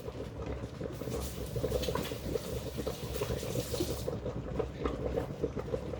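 Tap water runs steadily as hands are washed beneath it in a home kitchen, a continuous close splashing patter with small bursts of rinsing throughout.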